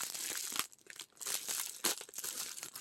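A plastic bag crinkles and rustles up close as it is tugged free from inside another bag in an Amazon package, with bursts of crackling and brief pauses between pulls.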